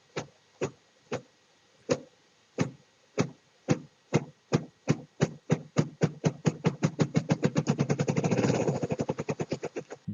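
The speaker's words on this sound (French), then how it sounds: "Elle fait battre ses ailes. On appelle ça tambouriner pour appeler un compagnon." A bird beats its wings to drum for a mate: low thumps start slow and widely spaced, then speed up into a rapid accelerating roll that swells louder before it ends, heard alone without voices.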